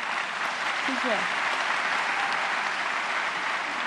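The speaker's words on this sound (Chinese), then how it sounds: "请大家为他们掌声" Audience applause at an awards ceremony, the Golden Bell Awards, forms a steady, dense wash of clapping throughout, with a brief word of thanks spoken over it.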